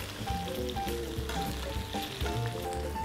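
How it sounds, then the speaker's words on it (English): Steady sizzling and crackling of breaded chicken with cheese frying in hot oil, close and continuous, with faint clinks of utensils. "Keep that frying nicely."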